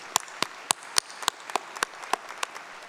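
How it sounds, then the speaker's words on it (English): At a fall university commencement ceremony, a few audience members clap in a sparse, fairly quiet run of distinct, separate claps spaced roughly a third of a second apart. "Please join me in applauding our members."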